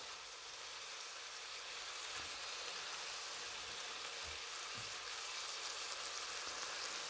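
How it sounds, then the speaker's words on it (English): A meal fries in a pan with a steady, close sizzling hiss, while a few soft knocks and scrapes of a utensil stirring it sound now and then. "Gonna give that a bit of stir."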